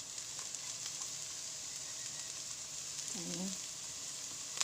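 Garlic frying in a pan for pork pata kare-kare, a steady, moderate hiss that runs throughout, with a few brief words spoken over it.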